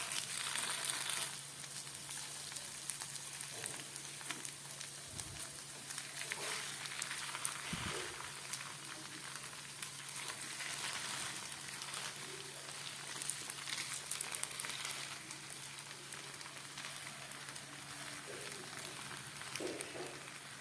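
Tiffin snack frying in a small amount of oil, a steady soft crackle and sizzle that holds at an even level throughout with a few faint clinks, close by and without talk.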